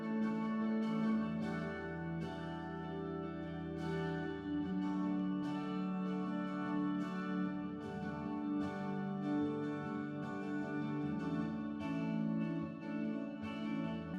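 Electric guitar mix for a song, processed through the Temperance reverb plugin, playing sustained chords and plucked notes with a lush, steady wash of ambience, fairly quiet and with no talking.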